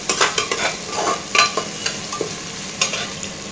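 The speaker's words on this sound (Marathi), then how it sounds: "कांदा कलर बदलेपर्यंत छान असा परतून घ्यायचा आहे।" Chopped onion sautés in a pan while being stirred, with loud, close sizzling broken by repeated scraping and stirring strokes at an uneven rhythm.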